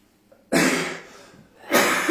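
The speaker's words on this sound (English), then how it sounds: "Clear my throat." A single throaty clearing sound, a rough burst followed by a second short rasp, close to the listener with no speech.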